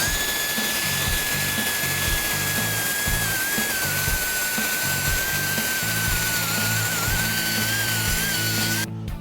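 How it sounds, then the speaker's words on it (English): A power tool deburrs the cut edge of a Mustang exhaust rear lower valance with a continuous high whine and grinding that stays loud and close throughout, with no talk. "Now we're going to go back through and carefully deburr it and clean it up."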